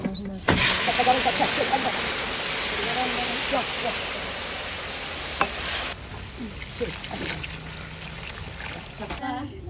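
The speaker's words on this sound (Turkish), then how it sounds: "Sonra bax yağı ki istədi qaynayır. Onda başlayıb şərbətini döşəcək üstünə." Syrup poured onto boiling oil while making halva, setting off a sudden loud, steady hiss and sizzle that runs for several seconds and then drops abruptly to a quieter crackle, with people talking under it.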